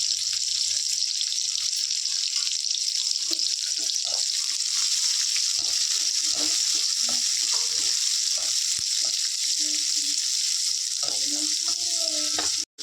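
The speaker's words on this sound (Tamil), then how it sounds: "தக்காளி நம்ம சேர்த்து வதக்க போகிறோம்." Tomatoes sauté with onions in a hot pan for a mushroom gravy, giving a steady, close hiss of sizzling with scattered light clinks and stirring taps underneath.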